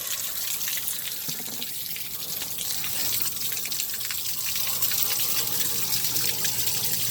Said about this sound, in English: this is going to be a little difficult because I got a lot of water running